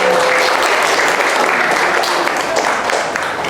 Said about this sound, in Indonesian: Ya, Pak, tepuk tangannya.